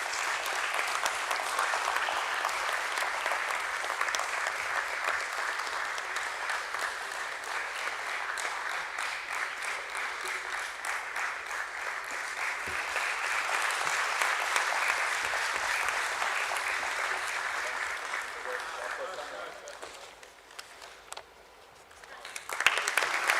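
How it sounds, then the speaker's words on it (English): A sustained round of applause from guests at a BSE stock exchange listing ceremony for Samhi Hotels, dense steady clapping filling the room for about twenty seconds before fading out. "A nice round of applause, ladies and gentlemen."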